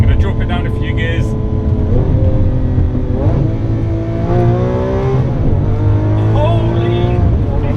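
A 2018 Lamborghini Aventador S engine roars loudly and continuously after dropping down a few gears, its pitch climbing and falling through several rising revs while someone talks over it from inside the car.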